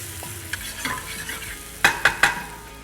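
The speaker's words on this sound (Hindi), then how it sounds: "गरम ऑयल में हम डालेंगे जिंजर और गार्लिक, दोनों बारीक कटे हुए।" Finely minced ginger and garlic sizzling in hot oil for garlic fried rice, a soft steady fry punctuated by a few sharp metallic clinks of a spatula against the pan near the end, with no voices.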